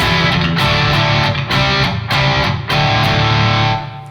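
Electric guitar with single-coil pickups played through stacked overdrive, compressor and boost pedals, giving a thick, loud distorted tone; continuous strummed chords with rhythmic accents, close and alone.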